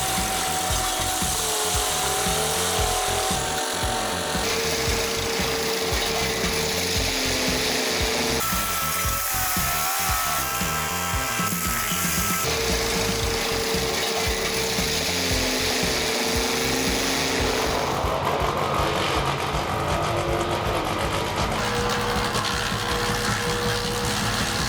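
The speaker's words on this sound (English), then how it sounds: "This Carlton Model 2518 tree chipper works like a machine of destruction, turning every branch and leaf into powder in the blink of an eye." A Carlton Model 2518 tree chipper shreds branches and leaves, a loud continuous grinding roar with shifting pitch as wood feeds through, running alone without voices.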